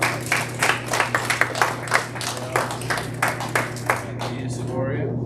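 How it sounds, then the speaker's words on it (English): A group claps for young swimmers at a team event, with steady, distinct hand claps building into applause that tails off near the end, heard close and fairly loud against a low background hum. "Let's go ahead and give these girls a nice big round of applause."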